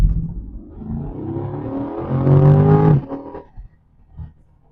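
A 2025 Chevrolet Corvette Stingray C8 1LT accelerates hard to 60 mph, its engine note climbing steadily in pitch to a loud peak before an upshift drops it, then it fades, heard close from inside the car.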